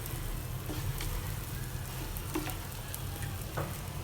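Tofu and chaap frying in oil in a pan, a steady close sizzle with scattered small pops and crackles throughout.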